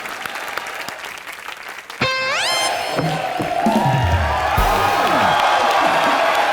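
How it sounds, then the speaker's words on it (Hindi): Studio audience at a live comedy show bursts into loud, sustained clapping and cheering after a rising synthesized sting, the applause swelling and continuing steadily to the end. "एक बार जोरदार तालियां हो जाए।"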